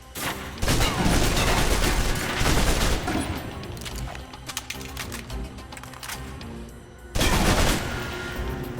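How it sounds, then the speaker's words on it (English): Submachine gun fire from the video game Alpha Protocol comes as a long, dense, rattling burst, then scattered shots, and after a short lull a fresh loud burst. It is sharp and close, with no speech. "If you're trapped in close quarters with multiple opponents, the SMGs can help clear the room quickly."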